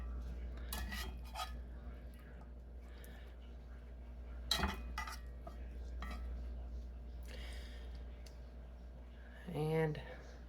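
A utensil mixes cooked potatoes in a dish, giving a few scattered clinks and scrapes against a quiet room, with a brief voice near the end.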